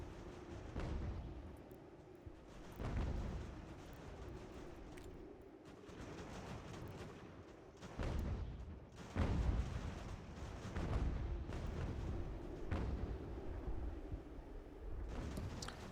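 Booming cannon volleys from Ultimate General American Revolution, the period artillery game, land as repeated heavy blasts at irregular intervals over a constant low battlefield rumble, each report loud and followed by a rolling decay.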